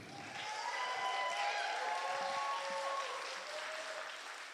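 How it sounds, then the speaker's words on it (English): Applause from a congregation at a Sunday celebration church service honors the band, a steady mass of clapping sustained across the clip with tonal music lingering underneath. "Let's give a round of applause to our band."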